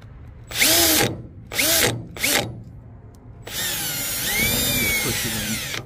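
A power drill bites into a car-body spot weld in short whining bursts, three brief pulls followed by a longer sustained grind with a rising, squealing pitch, loud and close.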